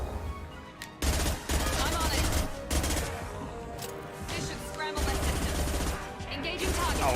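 Sustained gunfire in Mass Effect 2, with dense bursts of shots and explosions in loud stretches broken by short pauses, in the middle of a chaotic battle mix.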